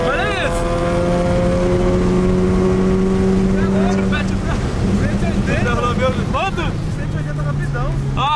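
Audi TT accelerating hard at high speed with friends on board, its engine note climbing steadily and staying loud and close throughout, with wind rush and excited talk over it.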